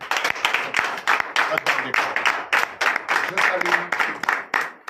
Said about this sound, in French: Donnez de vives acclamations